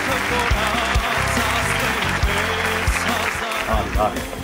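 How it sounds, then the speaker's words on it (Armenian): Studio audience clapping for a contestant on an Armenian singing competition show, a continuous burst of applause under steady rhythmic music with a thudding beat. "Շնորհավորում ենք Վահանին բարձր ծափարություններով"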